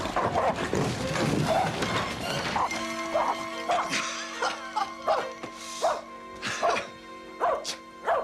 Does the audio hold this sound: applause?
no